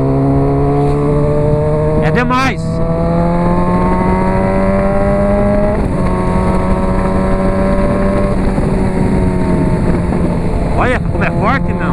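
A Honda CB 1000R motorcycle fitted with an aftermarket exhaust revs loudly on a highway, its engine note climbing and shifting through gears close up, while someone speaks briefly over it.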